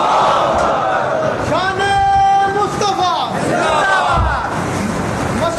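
A large crowd at a rally chants slogans in loud, drawn-out unison, the voices rising and falling in long sustained swells that fill the whole stretch.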